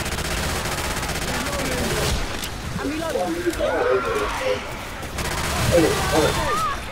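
Dense, continuous bursts of gunfire from a Left 4 Dead 2 custom versus match fill the soundscape at steady loudness, with several people talking excitedly over the shooting throughout.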